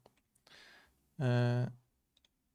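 A short burst of computer keyboard typing on a Windows desktop running in a QEMU/KVM virtual machine, soft clicks followed by one louder, denser clatter of keys, fairly close and quiet, with no talk.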